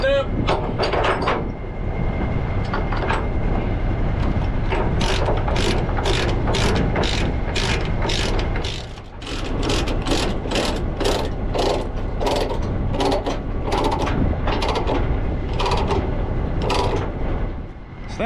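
Ratchet load binders being cranked to tighten chains securing a tracked machine on a trailer, a steady run of loud, close metallic clicks repeating through the whole stretch, with a brief lull midway and some background noise.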